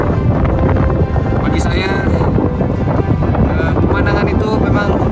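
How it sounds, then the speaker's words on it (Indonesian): Loud, blustery wind buffets the microphone in a constant roar on the summit of Mount Halau-Halau, South Kalimantan, while someone speaks briefly underneath. "Angin berembus cukup kencang."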